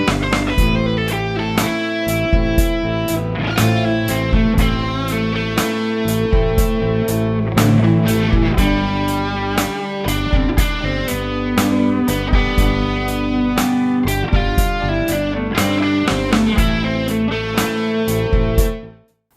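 A lead guitar solo plays over a full band, loud and continuous, with busy picked notes and steady drum hits that run for about twenty seconds before cutting off abruptly.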